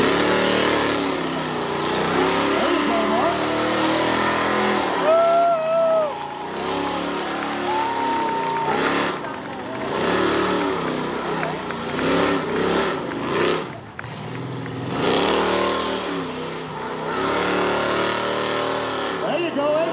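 A car doing a burnout at a Mopar burnout contest at the Chrysler Nationals in Carlisle, PA, heard as a steady engine drone with revs rising and falling, loud and continuous, with someone talking over it.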